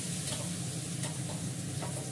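Lentils sautéed with salt and a little sugar in a pan, giving a steady, soft sizzle with faint stirring scrapes throughout, close and even, with no talk.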